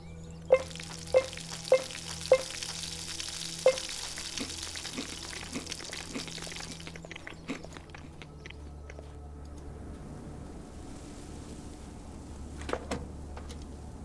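Meat sizzling over a campfire in the video game ATOM RPG: a steady fry for about seven seconds with a few sharp clicks early on, then fading into a low ambient hum with faint taps.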